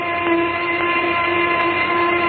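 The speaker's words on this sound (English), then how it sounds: "There's the noon whistle." A noon whistle sounds as a radio drama sound effect from 1944: a steady, loud, sustained tonal blast that holds unbroken throughout, with no voices over it.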